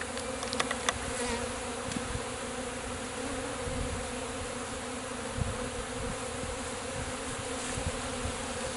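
Honey bees buzzing close up during a cut-out hive removal with a Colorado Bee Vac, a dense continuous swarm drone with a few individual bees zipping past, loud and steady with no voices.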